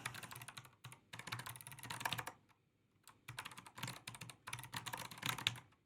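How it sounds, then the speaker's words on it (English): Rapid bursts of typing on a computer keyboard during a Neovim coding session, dense clattering runs of keystrokes separated by short pauses, close and fairly loud with no talking. "I swear I'm like typing things and it's not coming through."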